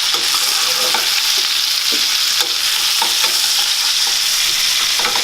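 Steaks frying in a skillet, a loud, steady crackling sizzle with light scraping from stirring or flipping, close up and without any speech.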